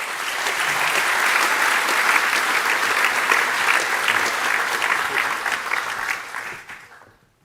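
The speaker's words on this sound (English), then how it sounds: "Let's give them a very warm round of applause." Warm, sustained applause from an audience at a university opening of the academic year, a dense wash of many hands clapping that holds steady for about six seconds before fading away at the end.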